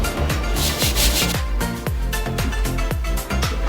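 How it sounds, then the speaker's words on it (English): A brush scrubs the soles of white cement Jordan 3 sneakers in quick, loud, close strokes, a rhythmic rasping series of about a dozen scrapes with no talk. "I finished scrubbing these, got them to be pretty solid"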